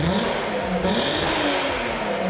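A Volkswagen VR6 engine revs up and down in a steady, throaty drone, loud and close, with a brief rise in pitch partway through.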